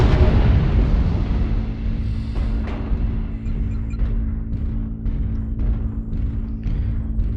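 Staggered energy weapon fire and explosions in a video game: a heavy rumbling blast at the start fades into a low drone, followed by a series of sharp, evenly spaced bursts.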